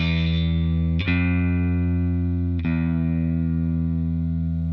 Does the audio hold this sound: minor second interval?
yes